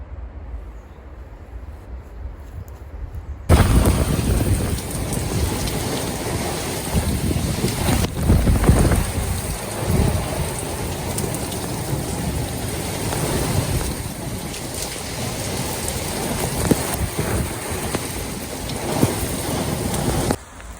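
Violent thunderstorm with heavy rain over a garden in the Hauts-de-France, after a quiet start giving way to a loud, steady roar of wind-driven downpour that continues throughout, with no voices.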